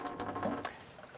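Water runs briefly from a kitchen faucet in a custom 2019 Ford Transit 350 high-top camper van, a steady close splash lasting about a second before tapering off.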